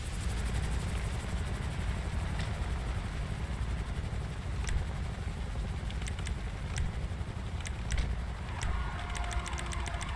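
An aircraft in a roleplay video game drones steadily, a continuous mechanical hum with a rotor-like flutter that holds at an even level for ten seconds, while faint scattered clicks sound on top.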